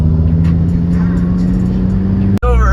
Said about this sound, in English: everybody's getting in their cars now. We just ate some breakfast and just letting the cars warm up a little bit